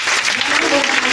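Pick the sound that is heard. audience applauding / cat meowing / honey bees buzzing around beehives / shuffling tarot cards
audience applauding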